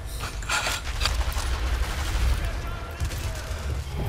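Gunfire from a sniper video game: a few sharp shots and bursts in the first second and near three seconds, set against a steady low rumble of game ambience.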